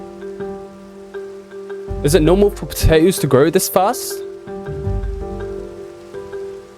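Soft, steady rain falls in the video game Minecraft, a faint hiss under background music, while a person talks over it for a few seconds in the middle.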